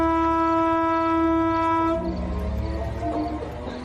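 A train sounds a sustained, harmonically rich horn or whistle for about two seconds as a staged effect in an audio drama, then a low rolling rumble of the train takes over.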